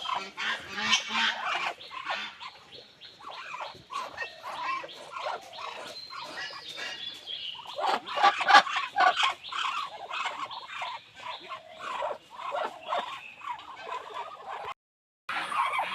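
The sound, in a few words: Chinese geese honking at a goose farm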